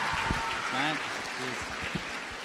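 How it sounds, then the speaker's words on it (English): Studio audience on a local TV show applauding a departing guest, a steady wash of clapping underneath, while voices talk and call out briefly over it. "How about you give a round of applause to Truman Carol?"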